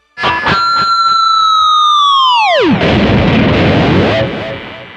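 An electric guitar on a cheaper Floyd Rose floating bridge plays a loud sustained note whose pitch swoops steeply downward in a dive bomb, then breaks into noisy low rumble as the strings go slack, without any talk.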